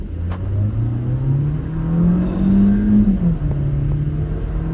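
A 2025 VW Taos with a 1.5-liter turbo engine accelerates hard in sport mode. The engine note climbs steadily through the rev range, dips briefly at a gear change and then keeps pulling, heard from inside the cabin.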